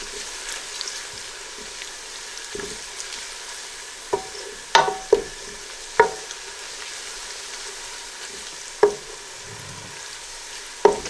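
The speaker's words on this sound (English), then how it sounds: "I'm just going to fry these off together before adding the splash of boiling water." Red chili powder and chili flakes fry together in a pan, a soft steady sizzle with occasional sharp clicks and taps of a utensil stirring against the pan.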